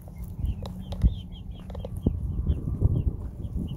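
Baby chicks exploring give repeated high, thin peeping chirps, near and moderately loud, scattered over soft rustling and shuffling movement.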